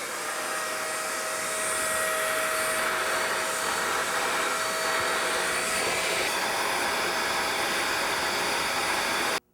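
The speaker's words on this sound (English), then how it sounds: "vacuum cleaners again, with one of these little hose attachments" A vacuum cleaner with a small hose attachment sucks dust and pet hair from the vents inside a computer, a steady loud whooshing roar that holds for several seconds and then cuts off abruptly.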